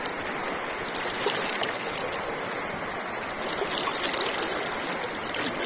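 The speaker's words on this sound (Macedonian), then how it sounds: "Видите колку е брза вода, видите. Видите, пуштена е браната." Fast, turbulent river water rushing along the Treska after the dam has been opened, a steady broadband roar with splashing that stays close and fairly loud throughout, with no one speaking.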